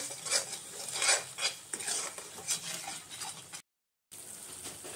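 Salt being stirred into paneer tikka masala in a pan, a close spoon or spatula scraping and clinking in an uneven rhythm with a light sizzle, broken by a brief silent gap.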